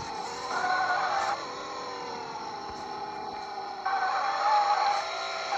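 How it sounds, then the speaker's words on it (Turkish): Engine hum of a car in a video game, a steady mid-pitched drone that swells and eases slightly as the car keeps rolling, alone with no talking. "Araba durmuyor ki."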